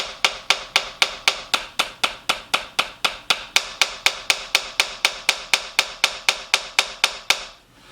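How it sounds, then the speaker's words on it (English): Drumsticks strike a practice pad in alternating hand-to-hand strokes, a steady run of about two dozen crisp, close taps at an even fast pace, with slight differences in strength between strokes and no talking. "Let me show you an example of hand-to-hand that don't sound so good together."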